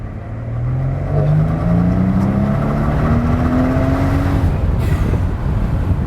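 Mercedes SL65 AMG R230 twin-turbo V12 revving up through several rising pulls, loud and close, a steady powerful drone climbing in pitch with no talk over it.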